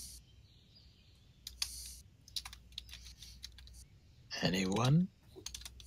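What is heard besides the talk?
typing on a computer keyboard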